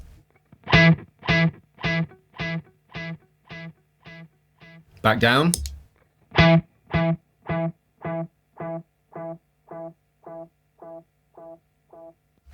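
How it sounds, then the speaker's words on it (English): A guitar note played through a JHS 3 Series delay pedal with digital and tape-style analog echo repeats at a steady rhythm, each repeat a little fainter. A short spoken phrase cuts in partway through. "they've chosen a sort of digital delay and like a tape echo, analog delay kind of thing going on there"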